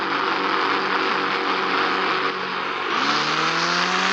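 Video game vehicle engine from Indian Bike Driving 3D, a steady close droning hum that rises in pitch as it revs up near the end.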